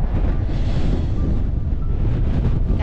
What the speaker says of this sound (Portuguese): E olha o vento, gente.